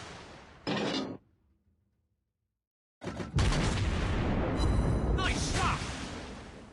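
Battleship main guns firing in World of Warships Blitz, a deep boom followed by a gap of silence, then a heavy rumbling barrage of blasts with crackling and whistling effects.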